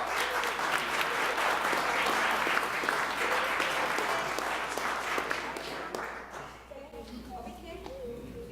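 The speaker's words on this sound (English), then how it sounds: "Give them a round of applause." Applause from an audience at a public health month kickoff event fills most of the stretch, dense and steady, then fades as voices and a child's singing take over.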